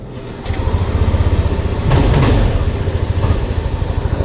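A Yamaha NMAX v2 scooter with a check-engine fault starts up and settles into a close, loud idle, its engine pulsing rhythmically with a brief surge partway through.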